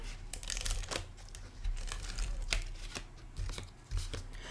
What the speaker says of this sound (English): Let's go ahead and attach this to the gingham with some tape runner.